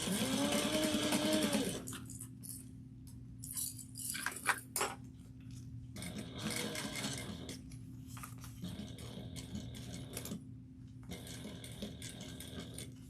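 A sewing machine stitches a bag lining at a 3/8 inch seam in bursts, its whirring motor starting and stopping with short pauses, nearby and fairly loud against a steady low hum, with no talking.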